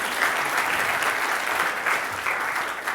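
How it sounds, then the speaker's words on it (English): A science conference audience gives a steady round of applause, a dense wash of many hands clapping at a fairly even level throughout, with no voices over it. "A round of applause, please."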